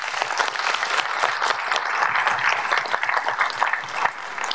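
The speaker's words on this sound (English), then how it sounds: "Please give a big round of applause for that presentation." An audience at an Open Group conference gives a round of applause after a presentation, a dense, steady wash of many hands clapping throughout, moderately loud with no talk over it.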